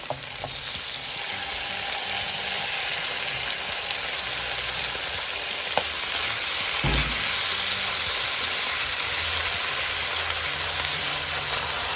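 Chicken pieces sizzle and fry over high heat in a pan for Thai chicken fried rice, a steady loud crackle running throughout with a brief stir or clatter near the middle.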